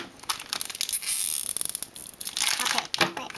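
Crinkly plastic packaging rustles and tears up close, with a couple of bursts of crisp crackling as a Smurf Stickeez wrapper is cut open with scissors.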